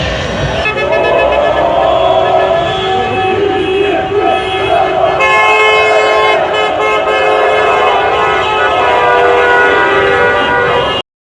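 Car horns honk continuously through a dense street celebration in Kocaeli after Trabzonspor's championship, with loud overlapping toots from a convoy of vehicles over crowd noise and chanting.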